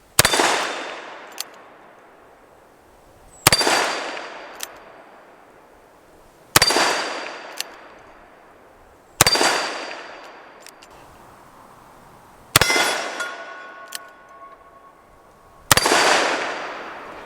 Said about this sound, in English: I sure love shooting the hostage popper.